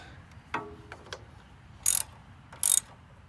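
A ratchet gives a few short, crisp clicking bursts while tightening valve cover bolts on a Kawasaki mower engine, close but faint, with small knocks between them and no talking.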